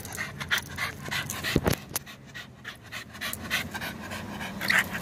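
A puppy pants close by inside a family camper van in quick rhythmic breaths, with a few soft thumps and faint movement around it.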